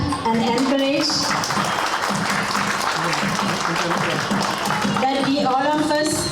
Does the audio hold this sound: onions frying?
no